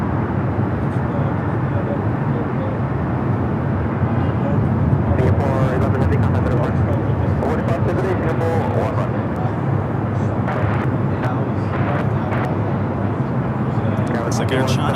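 An airliner at Los Angeles LAX airport, a broad continuous jet roar holding steady throughout, fairly loud and near, with a voice talking over it at points.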